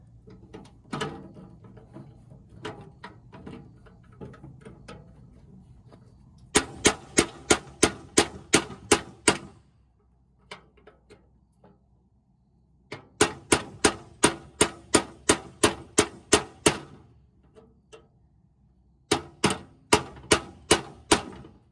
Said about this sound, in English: When all else fails, I guess get something that resembles a real hammer.